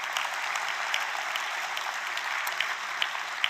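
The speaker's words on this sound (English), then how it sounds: "Let's give them another warm round of applause." Audience at a youth anti-bullying event opening ceremony giving a warm, sustained round of applause, dense steady clapping throughout with no talk.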